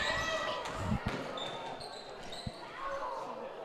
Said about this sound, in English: That ball bounces around, and Eldridge has it.